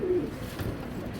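Racing pigeon coos softly and close by, one low throaty call at the start followed by faint murmuring over a quiet room background.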